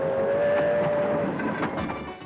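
A preserved steam train gives a sustained whistle tone at the start, followed by a mix of rumbling rail noise and short puffs as it moves, loud and fairly close.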